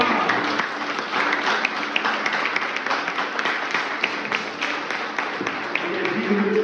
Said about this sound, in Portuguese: nós precisamos aplaudir ao Senhor com mais vontade